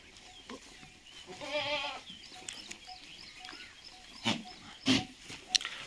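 Sojat and Osmanabadi goats bleating close by, a wavering cry followed by a few shorter calls, with rustling and small knocks in between.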